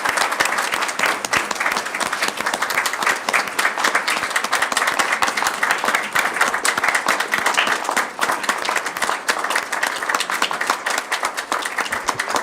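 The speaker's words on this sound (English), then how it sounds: "Round of applause to you." Sustained applause from an audience at a public hearing and board of directors meeting, steady dense clapping that stays loud and even for the whole stretch with no talk over it.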